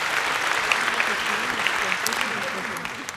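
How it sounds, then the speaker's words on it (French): Steady audience applause at an evening business awards ceremony, a dense wash of many hands clapping for the prize winners, filling the room without a break. "On peut les applaudir."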